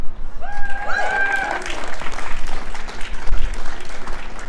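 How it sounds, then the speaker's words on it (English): Outdoor crowd at a climate activist rally applauding and cheering for a speaker, sustained clapping loud and close with cheers rising early, people talking underneath. "Let's give a big cheer for Emma"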